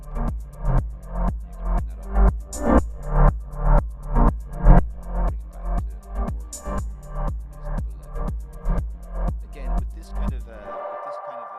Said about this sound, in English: So you can hear the delays in the background really pumping.